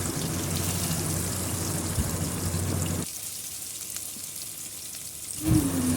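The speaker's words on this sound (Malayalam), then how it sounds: "ഇതേ എണ്ണയിൽ നമുക്ക് ചതച്ച് വെച്ച കൊച്ചുള്ളി ഇട്ട് കൊടുക്കാം" Crushed shallots frying in oil already used for browning, for a mutton curry: a loud, dense sizzle for about three seconds that drops to a quieter, steady hiss before swelling again at the end.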